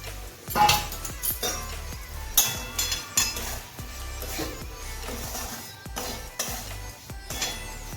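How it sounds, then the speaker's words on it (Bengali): Roasted semolina and vegetables are stirred in a pan, with irregular metallic scrapes and clinks of a spoon against the pan over a faint background sizzle. "এবার একই রকম ভাবে আমি নাড়তে থাকবো।"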